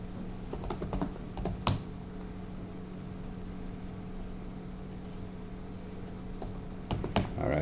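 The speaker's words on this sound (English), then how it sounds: "really fast typing there" Rapid typing on a computer keyboard, quiet clustered key clicks in quick bursts near the start and end over a faint steady hum, with no voices.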